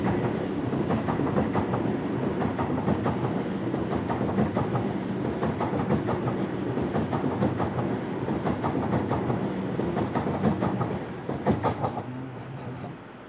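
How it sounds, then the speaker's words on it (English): A Sydney Waratah electric train on a City Circle service runs through a station platform, a loud sustained rumble with rapid rhythmic wheel clatter over rail joints, fading toward the end. "Waratah passing on platform number 1 is a City Circle service."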